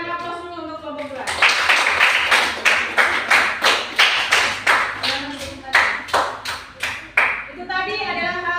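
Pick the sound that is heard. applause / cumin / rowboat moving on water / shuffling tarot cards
applause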